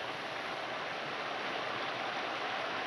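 Mountain river rushing along a rocky hiking trail in Sonfjället National Park, Sweden, a steady, dense broadband roar of flowing water, close and loud, unbroken throughout with no voices.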